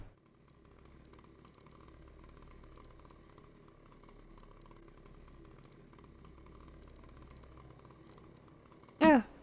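Chainsaw weapon in the video game Nightmare Reaper, a low, steady idling buzz that drones on for several seconds at moderate level, then ends in a sudden loud, sharp burst of sound.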